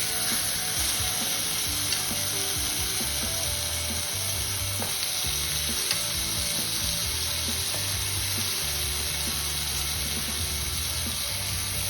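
Tomatoes sizzling on a very hot grill pan, a dense, steady crackle and hiss of frying close up, continuous and without speech.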